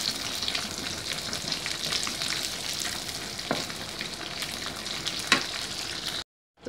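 Washed anchovies fry in a pan, giving a steady dense sizzle with occasional sharper pops and crackles, close and fairly quiet with no speech over it.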